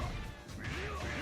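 A heavy smash from a character's throw in Capcom vs. SNK 2 lands amid busy game sound effects and a rising synthetic tone, with faint voice underneath.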